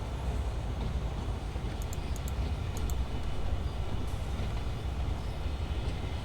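A freight train rolls along in Train Sim World 2 on the Cane Creek route, a steady low rumble with faint metallic clicks at moderate distance.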